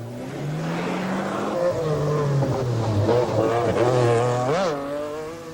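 A white Porsche and other rally cars race at the 1986 24 Hours of Ypres rally, engines droning and revving as they pass, pitch rising and falling, with one sharp swooping pass near the end.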